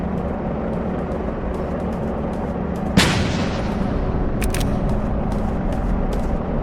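A grenade goes off in a video game, one sharp, loud blast followed by a decaying rumble, set against constant game background noise with faint clicks afterward.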